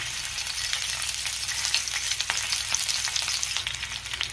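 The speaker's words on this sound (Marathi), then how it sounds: "कांदा मी 2 मिनिटं परतून घेणार आहे तेलावरती।" Onion pieces fry in a little oil in a pan with a soft, continuous crackling sizzle, fairly quiet and even throughout, with no talking.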